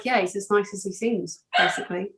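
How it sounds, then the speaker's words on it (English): A dog barks and yips in the background of a home while someone talks steadily over it, the barks partly buried under his voice. "Sorry about my dog barking in the background"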